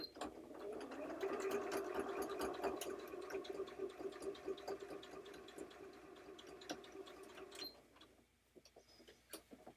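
A sewing machine stitches an embroidered bag edge closed with a rapid, even whirring run of needle clatter that holds steady, then slows and stops into quieter handling noises near the end, faint and close.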